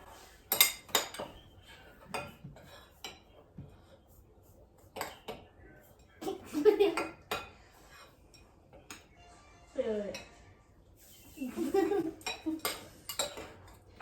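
A spoon stirring flour in a bowl, with light clinks and scrapes of metal on the bowl that come in scattered bursts, between moments of quiet and under soft talking from adults and children.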